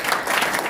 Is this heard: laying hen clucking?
no